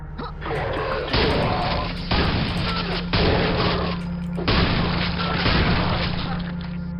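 Rapid bursts of gunfire from a Quake mod shooter, loud and dense, coming in several sustained volleys with brief gaps under a steady low game drone.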